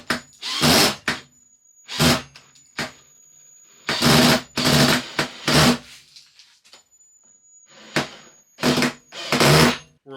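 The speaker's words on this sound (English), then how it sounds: "We're like shredding the bit and the head of the screw, trying to do it with that drill" Several loud bursts of a power drill whirring against a screw, stripping the bit and screw head, separated by short pauses, close up, with no talking.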